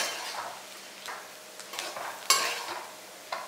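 Brinjal and potato rice is sautéed in a pan with freshly cut coriander leaves: soft stirring scrapes and gentle sizzling, with one sharper knock of the spoon against the pan, no talk.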